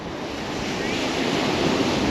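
Surging sea waves at Anjuna beach in Goa, with the water running high up the shore, make a continuous close roar of surf mixed with buffeting wind noise.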